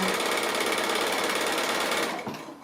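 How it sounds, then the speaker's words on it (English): A sewing machine chain piecing patchwork fabric runs steadily at close range with a fast, even stitching hum for about two seconds, then slows and stops as the motor trails off. "The machine won't cope with a long amount of stitching between without fabric there, but it'll cope with just like 3 or 4 stitches"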